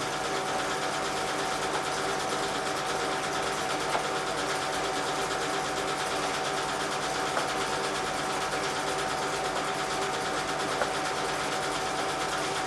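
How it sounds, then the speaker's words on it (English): Steady, dense mechanical roar of a Monto farm machine's rotating drum spinning at high speed to process corn cobs, continuous and loud with a constant hum and rattle throughout. "where the cobs are dumped straight into the rotating drum at pretty high speed"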